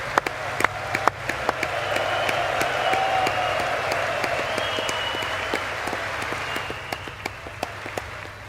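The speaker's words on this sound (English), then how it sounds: "I'm seriously clapping for that guy." Scattered, sparse clapping for a police officer during a State of the Union broadcast rises from a few sharp claps into a thin, steady patter over a low background hum.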